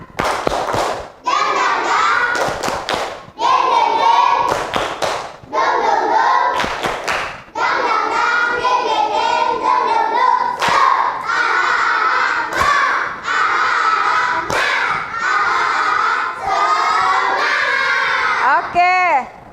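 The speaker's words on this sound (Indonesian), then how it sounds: "Coba kita tepuk semangat dulu. Tepuk semangat." A class of fourth-grade schoolchildren chants loudly together in a rhythmic spirit cheer, punctuated by sharp, crisp group claps in a steady pattern, with young voices shouting throughout the whole stretch.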